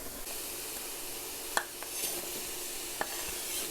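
A pot of chickpea curry with potatoes being stirred, a steady low sizzle underneath with a few sharp scrapes and clinks of the spoon against the pot at irregular moments.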